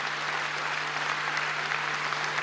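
Steady applause from an indoor audience at a French-language event, dense and continuous clapping at moderate distance with a faint low hum underneath.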